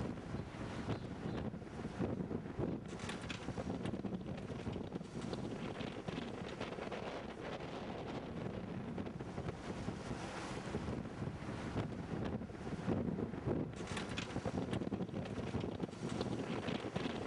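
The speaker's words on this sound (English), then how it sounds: "a good wind has come up" Strong wind buffets a sailing yacht heading into the Lemaire Channel in Antarctica, a steady broadband roar with microphone gusts and water rushing past the hull, loud and continuous throughout.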